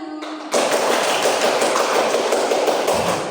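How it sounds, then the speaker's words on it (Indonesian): A class of third-grade pupils applauds a group, a dense, steady burst of many hands clapping that starts abruptly and continues loudly throughout. "Tepuk tangan buat kelompok 1."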